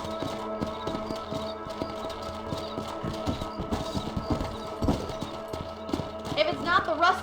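Horse hooves in Red Dead Redemption clop in a steady, rapid rhythm as riders move across a ranch property, with spoken dialogue layered over the hoofbeats and a brief whinny near the end.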